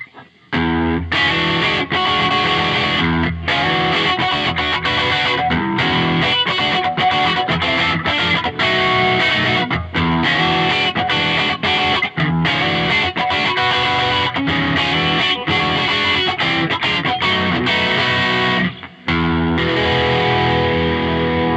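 Electric guitar played through a Bias FX 2 blues preset with a double amp, EQ, reverb and a stereo chorus, giving a slightly dirty, continuous, loud chordal and lead line that breaks briefly near the end.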